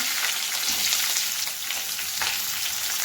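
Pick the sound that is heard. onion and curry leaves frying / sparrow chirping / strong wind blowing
onion and curry leaves frying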